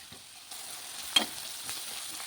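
Chopped onion fries in a pan with turmeric and salt, a soft steady sizzle that rises slightly after a moment, with a light utensil tap and scraping, and no one speaking.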